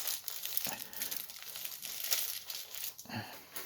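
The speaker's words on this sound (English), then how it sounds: "I'm going to put the tin foil on there, just like that" Tin foil pressed onto a glued part of a flush mount ceiling light fixture being rebuilt, crinkling and rustling steadily and close up for several seconds, with a few sharper crackles.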